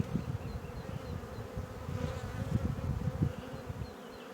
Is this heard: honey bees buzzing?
yes